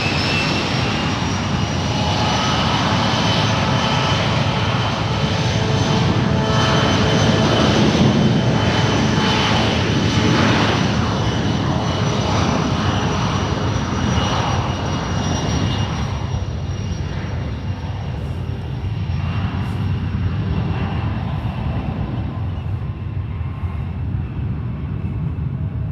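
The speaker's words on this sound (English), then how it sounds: "Here we go, Skywas 5707 on 1 right, headed to Reno with CRJ 200" A SkyWest Mitsubishi CRJ200 takes off from runway 1 right at San Francisco International, bound for Reno. A loud, sustained jet roar and high engine whine hold for the whole stretch, then slowly ease as the jet climbs away.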